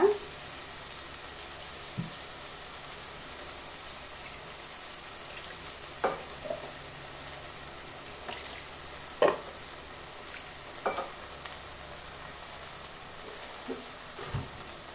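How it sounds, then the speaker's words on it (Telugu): Masala for egg curry frying in a pan, a soft continuous sizzle with occasional light stirring clicks and scrapes scattered throughout, quiet and close. "బాగా వేగాలి పచ్చి వాసన పోయిందాక"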